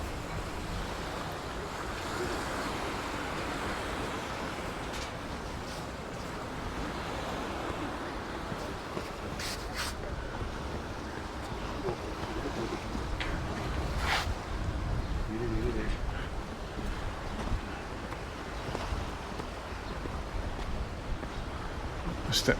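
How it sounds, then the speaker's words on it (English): Waves wash steadily onto Palmanova beach in Mallorca on a chilly, windy day, with a continuous surf roar and gusty wind buffeting the microphone throughout. "And that's bringing in a few waves."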